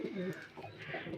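Racing pigeons coo softly nearby in low, throaty murmurs, with a voice speaking over them.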